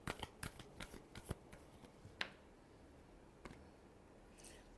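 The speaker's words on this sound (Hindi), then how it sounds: "Last shuffle." A deck of playing cards being shuffled up close: a quick cluster of crisp riffling flicks, then a few isolated snaps, faint and with no talk.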